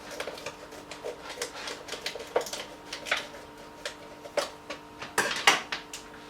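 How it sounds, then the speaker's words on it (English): Sterilised scissors snipping open the pouch of a Mangrove Jack's strawberry and pear cider kit, a series of close, sharp crinkly cuts and plastic rustles at an irregular pace. "So I'm just going to slip this over with some sterilised scissors and we'll see."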